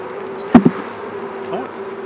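Honey bees buzz at an open beehive during an inspection, a soft steady drone with a couple of louder close knocks or passes.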